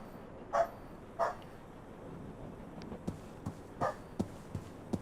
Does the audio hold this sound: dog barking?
yes